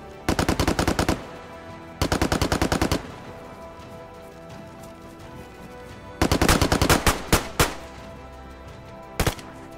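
Automatic gunfire in the video game DayZ, loud close bursts of rapid shots in several rounds with pauses between them, ending in a few single shots, no talking.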